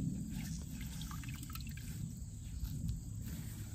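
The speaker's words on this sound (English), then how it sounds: "To just wring as much of that out as possible" A shibori-dyed tea towel is wrung out by hand, water pouring and dripping in a steady trickle with soft splashes, close and fairly quiet, with no talk.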